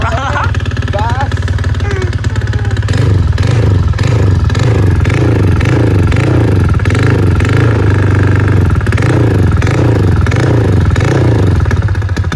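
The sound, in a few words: Honda Vario motorcycle engine revving on test ride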